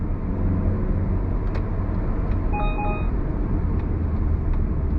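A 2022 Mazda CX-30 with a 6-speed automatic driving on busy city streets, giving a steady loud low road rumble and engine drone, with a brief tonal chime partway through.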